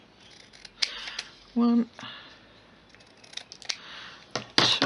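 Scissors trim the edges off paper in a craft project, a series of crisp close snips and slicing strokes spread across a few seconds, with a brief spoken word among them.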